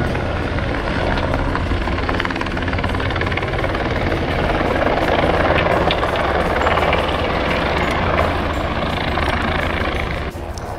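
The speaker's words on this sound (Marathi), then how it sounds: "इथं आहे हेलिपॅड. जसं की इथं हेलिकॉप्टरची सुविधा आहे." A helicopter at a mountain helipad near Kedarnath runs steadily and loudly throughout, its rotor and engine a continuous close roar that eases slightly at the very end.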